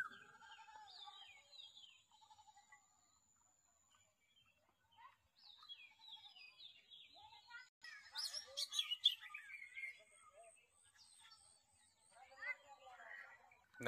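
Village birds chirp and call in the evening, sounding as short tweets and trills scattered across the clip. A livelier burst of calls comes partway through, and a person talks softly in places.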